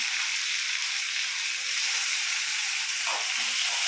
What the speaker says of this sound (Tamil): தக்காளி நம்ம அரிஞ்சிச்சு தக்காளி போட்டுக்கலாம்